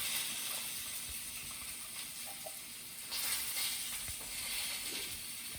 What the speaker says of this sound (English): I'm gonna put this on like low, just to let it keep simmering